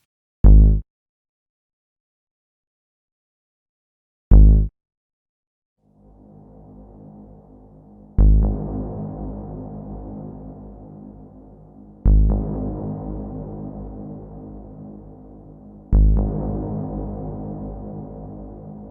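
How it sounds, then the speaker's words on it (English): Deep synth bass processed through Ableton's Echo with long pre-delay reverb: two short isolated hits, then a low droning tone with repeated swelling attacks every few seconds, each trailing into a lush, dark wash. "So here's the bass sound."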